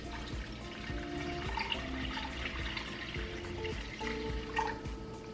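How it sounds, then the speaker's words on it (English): Water runs steadily into a pot of pinto beans, a continuous splashing, filling rush that stays close and fairly loud throughout, with no talking. "So now we're going to put water in the pan or the pot, enough to cover the beans by about an inch."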